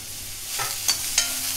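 Dried coconut slices and garlic cloves drop into hot oil in a frying pan, a soft steady sizzle with a couple of brief sharper crackles as pieces land, close and alone.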